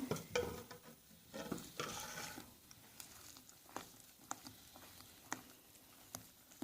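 A spatula stirs curd batter for a fluffy cottage-cheese bake, making soft, wet, uneven scraping and slapping sounds close by, with scattered light knocks against the bowl and no talking.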